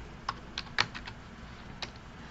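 Several quick, light clicks of a computer keyboard being typed on, spaced irregularly and close up in a quiet room.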